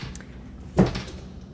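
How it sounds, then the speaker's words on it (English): Door at a bar in Newark Airport opening with a single short knock-like thud, close and fairly loud against quiet background noise. "Open the magic door."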